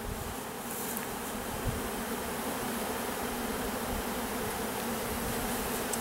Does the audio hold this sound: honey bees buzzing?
yes